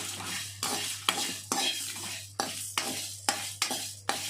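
Cumin and dried red chillies roast in a pan, stirred with a spoon that scrapes and clinks against the metal in a regular series of close strokes over a soft crackling sizzle.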